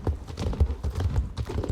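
Horse hooves clip-clop in the video game Star Stable Online, a steady rapid rhythm of close hoofbeats throughout, with a voice talking faintly underneath.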